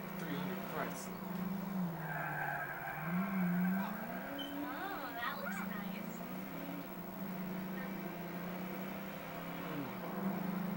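A Chrysler 300 with a Hemi V8 in GTA 4 skids with wavering tire squeals over a steady engine drone, rising and falling through the stretch alongside other game sounds.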